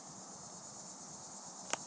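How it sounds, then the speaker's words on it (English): A cicada buzzes as a steady high drone in a garden by tomato plants, constant throughout, with one short sharp click near the end. "So that's our little cicada friend."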